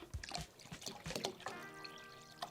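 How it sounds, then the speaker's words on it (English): A little extra water is poured from a spare bottle into a container of pulp for making recycled paper; a soft, faint trickle and splash sounds close by, with light handling noise. "So I'll just grab one of my extra bottles here and add a little bit extra water."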